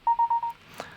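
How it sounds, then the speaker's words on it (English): Apple's AirDrop notification sound: four quick, bright electronic beeps in a row at the same pitch, followed by a faint soft click, heard alone and up close. "That's actually Apple's AirDrop sound, which originally sounds like this."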